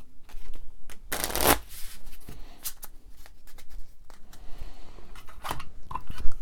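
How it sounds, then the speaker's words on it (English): A deck of cards for a tabletop game is shuffled with a quick riffle burst, followed by lighter taps and handling of the cards. "Let's get that a quick shuffle"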